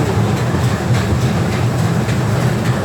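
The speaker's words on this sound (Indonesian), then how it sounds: "Rel gari." Train rolling past on rails in West Karbi Anglong, a loud, steady rumble with rhythmic clickety-clack of wheels on the track joints, close and continuous throughout.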